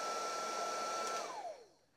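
A Makita DHG181 cordless heat gun blows on its fast fan setting, a loud steady whooshing whine that holds, then winds down with a falling pitch as the motor switches off, with no talking.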